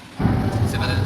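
A sudden deep rumble of thunder starts after a brief quiet moment and rolls on steadily, loud and low.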